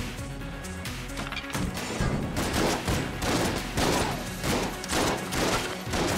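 A gun firing in the game Enter the Gungeon, a rapid, loud series of cracking, smashing shots with brief irregular gaps, punchy and close over a game backdrop.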